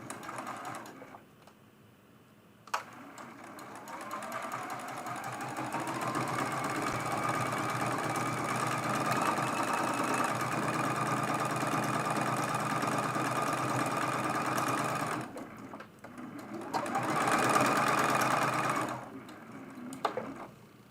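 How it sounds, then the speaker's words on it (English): A sewing machine stitches a seam joining fabric for a mug rug, running steadily for about twelve seconds, pausing briefly, then running again in a short burst. No one speaks over the hum. "we're going to sew that seam."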